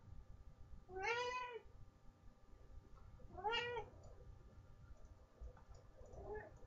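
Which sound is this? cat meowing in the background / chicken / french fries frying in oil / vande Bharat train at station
cat meowing in the background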